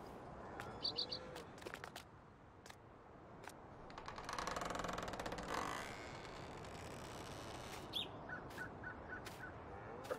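Chickens in an animal pen in a farming video game, with repeated clucks and chirping calls over a noisy background, moderately faint.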